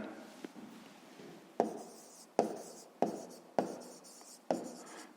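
Pen writing on paper during a maths exercise, a series of about six sharp taps, each followed by a short scratching stroke, close and quiet with no voice over it.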